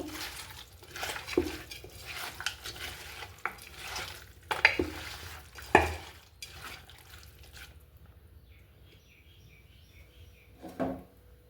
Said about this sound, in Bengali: আমি হাত দিয়ে এগুলো মেখে নিচ্ছি